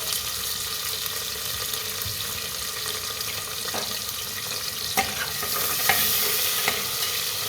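Onions and tomatoes sizzle steadily in hot oil in a pan, a constant loud frying hiss running throughout with a few sharper pops and spatters near the end, no voices.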